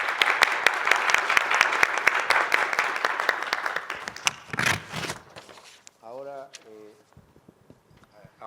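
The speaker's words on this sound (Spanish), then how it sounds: "por favor brindémosle un nuevo aplauso al ingeniero." Audience applause for an engineer at a technical conference on mineral processing and extractive metallurgy, a brisk round of clapping that dies out after about four seconds, followed by a few stray claps and then a voice speaking in the room.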